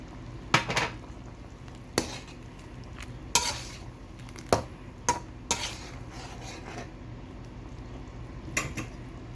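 Beef karahi masala with ground spices frying in a pan: a soft, steady sizzle under about seven clear scrapes and clinks of a spoon stirring against the metal, with no talking.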